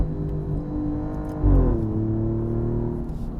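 A 2023 Alfa Romeo Giulia QV accelerating on a road, heard from inside as a steady engine drone that swells into a low rumble and shifts pitch as it climbs through the revs, with no talking.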